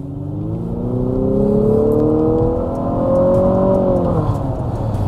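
A 2022 Infiniti QX55 with a CVT accelerates hard, its engine drone rising steadily in pitch, easing off briefly and climbing again, loud and close inside the cabin with a stepped feel like a simulated gear change.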